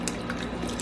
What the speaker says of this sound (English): As I'm pouring it, I'm mixing it because I want everything to blend nice